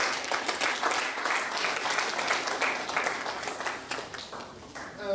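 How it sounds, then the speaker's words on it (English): An audience at a roundtable meeting applauds in a tribute, steady full clapping from many people lasting around five seconds with a slight swell near the end. "let us applaud him."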